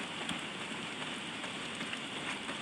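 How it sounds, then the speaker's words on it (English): Steady heavy rain pouring down in a video game, a dense continuous hiss of drops hitting surfaces with no pauses and no voices. "Well, not if it's pissing down rain."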